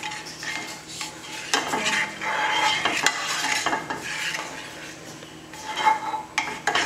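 A utensil scrapes and stirs scrambled eggs around a pan in steady repeated strokes, with light clinks against the metal and a soft sizzle underneath, close and fairly quiet.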